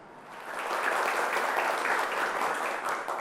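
Students in a television talk-show studio audience applaud, a dense, steady wash of clapping that swells early and holds loud throughout, with no voices over it.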